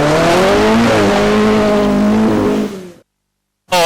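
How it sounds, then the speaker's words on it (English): A Ford Escort rally car on a 1986 Irish stage rally roars past close by at speed, its engine note rising and then falling away before the sound cuts abruptly to silence. "Dick Bailey from New Ross in the Escort"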